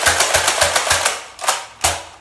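A Nerf Tri-Strike pump-action blaster is slam-fired in a fast burst of sharp plastic snaps, about seven pumps and shots in quick rhythm, then two slower, louder ones, all close and with no voices.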